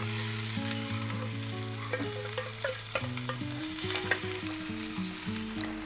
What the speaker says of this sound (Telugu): వేయించి పెట్టుకున్న బెండిని కూడా ఇందులో వేసేసి కలిపేసుకుంటున్నాను